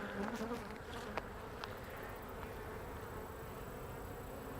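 Honey bees buzz steadily during a beekeeper's check of a queen-right hive, a soft continuous hum with occasional louder passes from individual bees close by and no talk.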